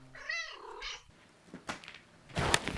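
A pet cat meows with a drawn-out, wavering call, then purrs and rustles close by, with a few soft bumps and a louder scuffle at the end; no one speaks.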